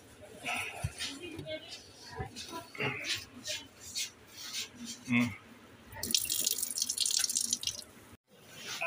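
Water from an LG washing machine drains out in an uneven splashing and dripping stream, close by, with bursts of trickling and a brighter gush near the end.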